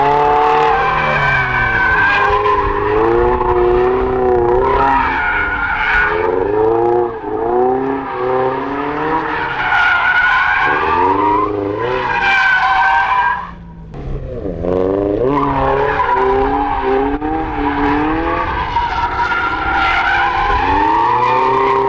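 A car drifting at a drift clinic howls with long, sustained tire squeal over a revving engine, close and loud for over twenty seconds, the pitch wavering as the slide continues, with one brief dip midway.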